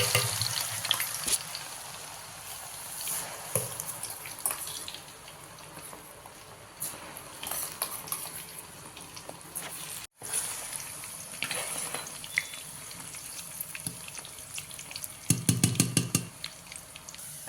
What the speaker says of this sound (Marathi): आता मी हा बारीक केलेला लसूण टाकत आहे तेलामध्ये